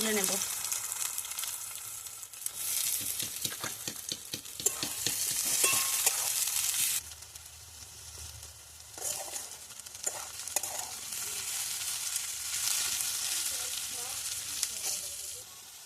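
Onions fry in oil for prawn biryani with a strong, steady sizzle, interrupted by stirring scrapes and clicks of a spatula against the pan, close and loud.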